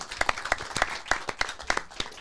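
Sparse applause from a small podcast audience, a handful of distinct hand claps in an irregular rhythm, fairly close and moderately loud.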